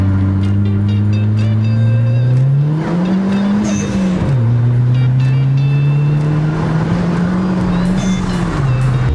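A turbocharged Caliber SRT-4 engine with an aftermarket Corksport blow-off valve drones loudly from inside the cabin, its pitch rising and dipping as the turbo whistles and spools up over the road noise.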